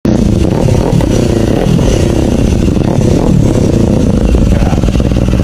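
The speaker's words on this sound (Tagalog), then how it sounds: "Kaya naman sound check natin Kawasaki ZX500." A Kawasaki ZX500 motorcycle fitted with an SC Project aftermarket muffler revs close up, its loud, raspy exhaust note rising and falling continuously throughout.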